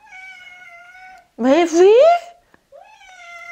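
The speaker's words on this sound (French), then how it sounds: "Ce chat parle." A pet cat meows in a long, wavering, talky cry, close and loud, with a person speaking French just before and after it.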